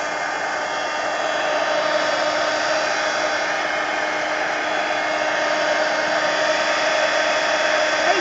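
A hair dryer runs steadily and close for the whole stretch, blowing hot air over collage paper on a craft table, with a constant loud whir and no pauses.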